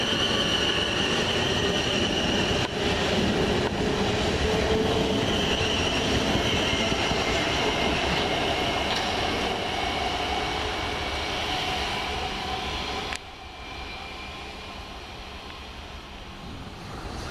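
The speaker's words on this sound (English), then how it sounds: "just now departing, the 1103 Southwest train service from London Waterloo to Basingstoke" A South West Trains Class 450 electric unit departs a main-line station, a steady loud rumble with a high motor whine that holds for most of the pass and then drops sharply as it clears.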